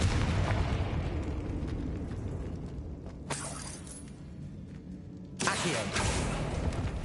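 A Confringo blasting spell detonates in Hogwarts Legacy on PS5, loud broadband bursts over a constant rumbling game bed, with a second sharp blast near the end.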